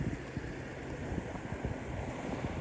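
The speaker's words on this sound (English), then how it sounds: "a lot of water coming in. There must be access pipes underneath that road." Floodwater pours in beneath a levee road at flooded Tulare Lake, likely through pipes under the road, making a steady, dense rushing wash with wind buffeting the microphone throughout.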